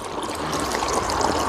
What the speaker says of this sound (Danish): hvor vi fylder vand på her